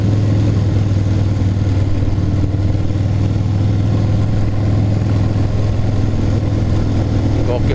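A 1200cc motorcycle engine drones steadily and loudly with a low, continuous rumble while being ridden, wind and road noise running throughout with no pauses.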